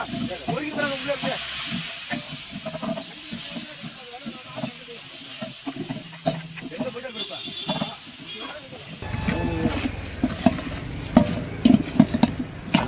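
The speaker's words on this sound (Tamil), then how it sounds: "நல்லா ஃப்ரை ஆகிடுச்சு" Food frying in a pan gives a continuous hissing sizzle with scraping stirs, swelling louder and more crackly toward the end, while people talk over it.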